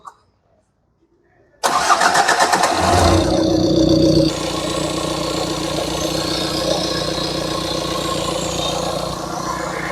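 A car with a known starting problem, in for diagnosis, cranks loudly for a couple of seconds after a near-silent pause, then catches and settles into a steady, close idle.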